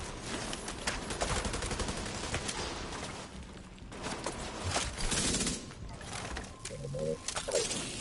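Rapid bursts of video game gunfire from enemy characters crackle in uneven clusters through the stretch, a steady game soundscape running underneath.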